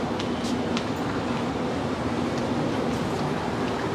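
Steady rumbling interior noise of a train on the rail line from Bang Sue to Don Mueang Airport in Bangkok, a continuous broadband hum with faint rhythmic clicks and no talking.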